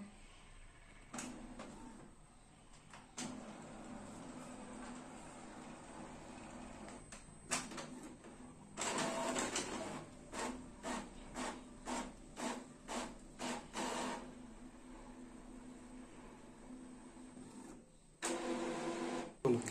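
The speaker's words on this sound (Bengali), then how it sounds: "এবারে আমরা স্টপওয়াচ চালু করে দেখব মিনিটে কতগুলো পেজ প্রিন্ট আউট হচ্ছে।" Epson L4360 inkjet printer printing pages, a steady mechanical whir broken by a rapid run of rhythmic feed clunks and bursts of louder carriage noise, close and clear with no talking.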